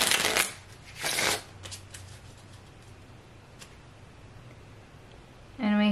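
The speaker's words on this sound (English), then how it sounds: "One more little shuffle." Two quick riffles of playing cards being shuffled, close by, followed by quiet handling and a brief voice at the end.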